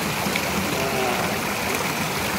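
Waterfall in a valley stream beside Samcheonsa temple in Eunpyeong-gu, a constant close rushing hiss of falling water, loud and unbroken, with no voices.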